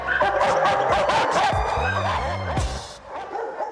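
A hyperactive dog in a kennel barks and yips in quick bursts, loud and close, with a few higher whimpering yelps mixed between the barks.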